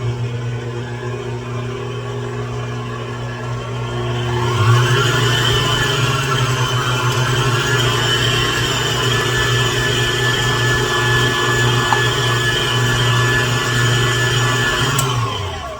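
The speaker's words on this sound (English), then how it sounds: "I'm just going to mix them till they're combined" Electric hand mixer whirring steadily as it beats two small eggs together in a bowl for lemon cooler cookies, a motor hum that rises in pitch after a few seconds and runs continuously, close and fairly loud.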